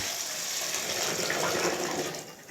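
Warm water with baking soda dissolved in it is poured steadily over onion sets in a container, a loud, continuous splashing rush that runs unbroken for a couple of seconds before tapering off.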